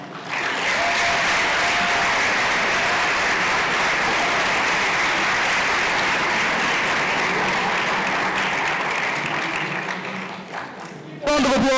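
An audience at a national science and technology exhibition claps in sustained, loud, dense applause that holds steady for about eleven seconds before cutting off abruptly.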